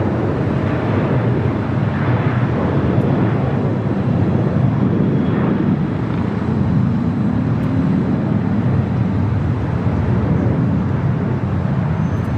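Boeing 737-800 airliner taking off from LAX, heard from inside the cabin as a steady loud broadband engine roar and rushing noise throughout.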